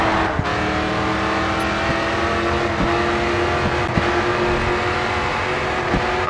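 Race car in the video game GRID 2 driving steadily, its engine droning loud and constant with brief gear-shift dips and no talking.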